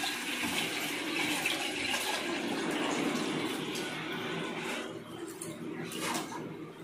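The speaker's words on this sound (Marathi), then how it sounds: "मी एवढं पाणी घेतलंय आणि ते आता मी टाकून देते" Water pours steadily into rice flour, a continuous close gushing splash lasting several seconds and tapering slightly near the end, with no speech.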